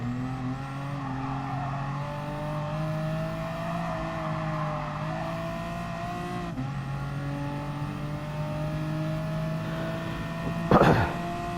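Race car engine in the Gran Turismo Sport video game, Clubman Cup amateur league, a steady loud droning whine that shifts pitch as the car speeds and brakes on track, with a brief crackling burst near the end.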